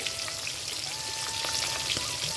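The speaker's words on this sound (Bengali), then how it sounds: "মাছটা আমার দেখো আমি এপিট ওপিট করে ভেজে নিয়েছি" Pieces of katla fish fry in hot oil in a pan, giving a steady, dense sizzle with fine crackling pops throughout, fairly close and moderately loud.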